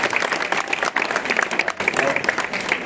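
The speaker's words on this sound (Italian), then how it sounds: "Un forte applauso perché dobbiamo accogliere" Crowd in Chioggia applauding the arrival of the regional president at the opening of a fish festival; dense, steady clapping fills the whole stretch with a murmur of voices beneath.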